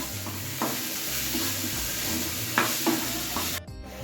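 Potatoes fry with turmeric, chili, cumin and coriander powders and ginger-garlic paste for an egg and paneer curry, giving a continuous near sizzle broken by light scraping strokes of stirring before a brief cut near the end.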